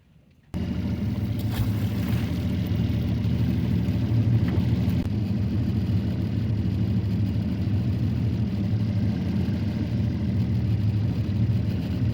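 A fishing boat's outboard motor runs steadily on the water, a continuous low rumbling drone that starts abruptly and holds at an even, fairly loud level with no talk over it.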